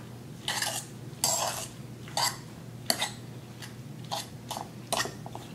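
Crab cake mixture being blended into crab meat in a bowl, a series of soft scraping and squelching strokes at an uneven pace, close and fairly quiet.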